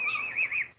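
A pet bird named Pretty Bird gives a short, close, wavering chirp that lasts under a second and stands alone with no talk.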